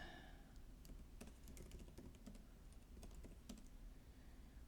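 Keystrokes on a computer keyboard, a quiet run of sharp clicks in irregular bursts, close and alone over a faint room hum.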